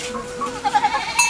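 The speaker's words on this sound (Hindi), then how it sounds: "बकरी" A goat bleats nearby in a village in Benti Gram Panchayat, Jharkhand, giving one wavering, pulsing call against quiet outdoor background.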